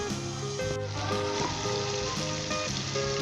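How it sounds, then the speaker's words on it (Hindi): Chicken karahi sizzles and fries steadily in a pan, a continuous close crackle under soft background music. "और अच्छे तरीके से हम इसे फ्राई करेंगे"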